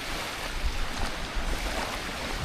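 Steady rush of Black Sea waves at Langeron beach in Odesa with low rumbling surges, a constant outdoor wash of water and wind with no voices.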